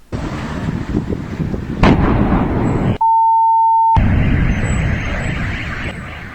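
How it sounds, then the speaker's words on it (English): Loud roaring rumble from an explosion in Volgograd, Russia, in news footage, with a sharp crack near the start of the noise and a steady beep-like tone interrupting it for about a second before the blast noise resumes. "So there was an explosion"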